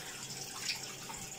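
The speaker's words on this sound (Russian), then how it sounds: "Я это споласкиваю" Dishes being rinsed under a running kitchen tap, a steady soft hiss of flowing water with slight splashing, faint and continuous.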